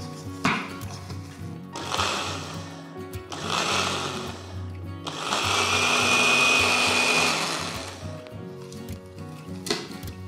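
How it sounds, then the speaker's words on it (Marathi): A kitchen mixer grinder purees cooked red pumpkin together with its cooking water, running in several loud whirring bursts of a few seconds each with brief pauses between, the longest burst steady and intense, heard up close without talk. "त्यातल्या पाण्यासकट मिक्सरच्या भांड्यामध्ये काढून घ्यायचा आणि याची छानपैकी प्युरी तयार करून"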